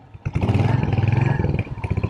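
A Royal Enfield Hunter 350 motorcycle, a 349 cc single, starts and runs close by, its deep, pulsing exhaust throb loud and steady with a brief rev in the middle.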